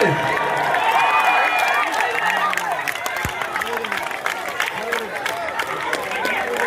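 At a tug-of-war contest in Payyoli, Kozhikode, a crowd claps and cheers in a sustained burst of applause, with an announcer's voice carrying over the noise.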